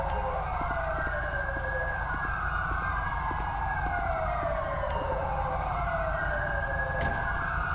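An ambulance siren from the Grand Theft Auto V police mod wails in a steady rising and falling sweep, repeating several slow cycles at moderate volume over a low engine rumble, with no talk.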